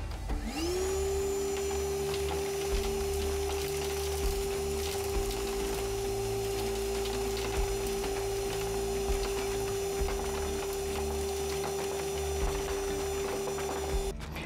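A Ryobi R18PV-0 cordless vacuum runs with a steady high whine and airflow roar, close and constant, while scattered ticks and clatters mark washers, nuts and screws being sucked up.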